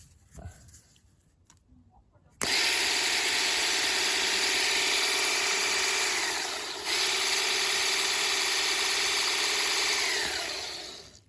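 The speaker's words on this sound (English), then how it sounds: "the motor's fully rebuilt and basically as expected it is a bit noisy" A rebuilt Sinclair C5 electric motor: a loud, steady whine with a harsh mechanical edge starts abruptly after a quiet moment and runs continuously, dipping briefly once before fading slightly at the end.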